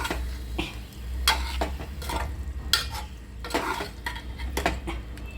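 Cooked drumstick pods and sweet corn kernels go into a hot pan for a sweet-spicy vegetable dish, with a low steady sizzle under repeated scraping and clinking of a spoon against the metal pan.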